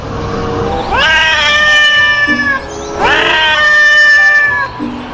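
A cat in the video game Jurassic World Evolution 2 gives two long, loud, drawn-out meows, close and clear, with a short gap between them and no talking.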